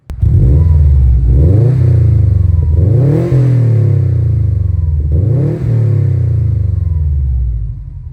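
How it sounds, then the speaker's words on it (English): A Subaru STI fitted with an SPT aftermarket exhaust revs loudly several times in a row, each blip rising sharply and falling back to a deep, rumbling idle, close and alone. "once it's warmed up, we'll give it some revs"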